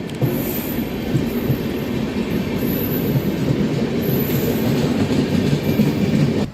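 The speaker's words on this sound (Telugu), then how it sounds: "వ్యాప్ 7 లోకోమోటివ్ వస్తుంది" A Howrah–Tiruchirappalli train hauled by a WAP 7 locomotive rolls in with a loud, continuous rumble, joined by intermittent high, thin wheel squeals throughout.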